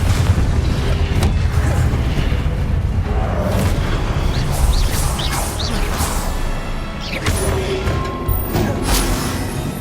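In the video game Hogwarts Legacy, the Confringo explosion spell lands with heavy booms and crashing blasts over a loud, continuous wash of game noise, with whooshes and bright magical zings in between.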